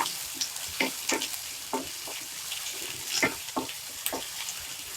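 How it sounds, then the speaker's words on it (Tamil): Chopped onions sautéing in oil with mustard seeds for egg masala, a steady close sizzle punctuated by spoon scrapes and light stirring knocks, no voices. "இது வந்து வெங்காயம் வந்து நல்லா வதக்கிடுங்க"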